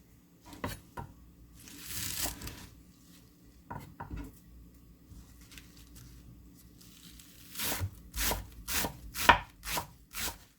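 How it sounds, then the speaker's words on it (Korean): A knife chops chives on a cutting board in bursts of quick, crisp taps, sparse at first and then a rapid close run of strokes near the end. "부추를 썰어 볼게요."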